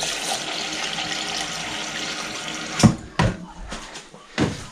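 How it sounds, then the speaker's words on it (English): Water pours into a small bucket for mixing tile adhesive, a continuous splashing rush that cuts off abruptly, followed by a few short sloshing bursts. "Water."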